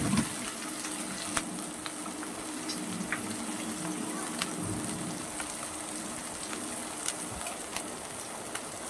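Chopped onion and garlic frying in a pan, a soft, steady sizzling hiss with scattered small crackles and pops, faint and continuous throughout.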